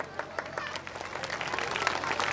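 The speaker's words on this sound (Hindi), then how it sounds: "तालियां हो जाएं।" Audience applause at an education-related gathering, a steady dense patter of many hands clapping throughout, moderately loud and continuous with no talk over it.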